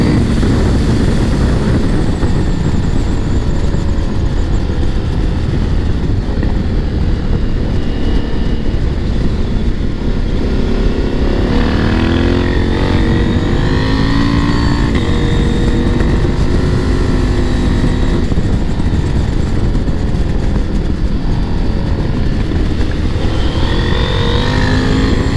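A KTM 890 SMT motorcycle's engine and exhaust roar steadily while riding, loud and close, with the pitch rising and falling through gear changes and throttle for the whole stretch, wind rush underneath and no talking.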